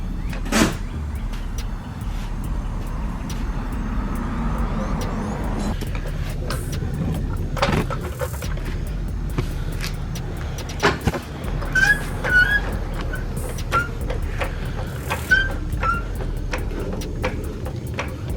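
A turbocharged 1996 Honda Accord CD7 with a G22 engine doing a burnout: a loud, sustained broadband roar of engine and tyres that holds steady for the whole stretch, broken by a few sharp clunks and brief high squeals.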